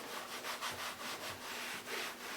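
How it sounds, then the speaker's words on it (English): A pad rubs detailing product over the plastic interior trim of a Volvo XC90 in a steady run of close, soft swishing strokes, with no voices. "we just put a little bit on the pad, rub it around"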